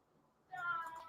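A single faint cat meow rises out of near silence halfway through and trails off, with no talk over it.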